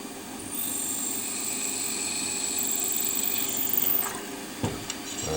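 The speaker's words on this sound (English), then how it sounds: "So get my drill over a gap in the table." A power drill bores a blind hole in metal at a workbench, a steady close whine that holds for about four seconds, then winds down with a few clicks.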